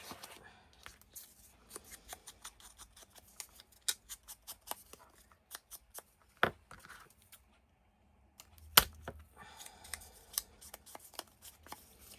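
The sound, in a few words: scissors cutting paper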